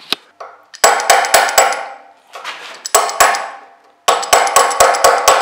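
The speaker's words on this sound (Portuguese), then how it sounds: "Eu tenho que ir apertar aqui estes parafusos" Sharp metallic taps and clanks come in quick clustered bursts from tools worked on screws of a Zundapp moped, close and loud with short gaps between groups.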